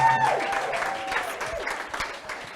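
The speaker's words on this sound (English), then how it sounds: "big round of applause." An audience applauding at a chat event with Dr Thebe Ikalafeng, a burst of clapping mixed with crowd noise that slowly tapers off over a couple of seconds, with a brief tone at the start.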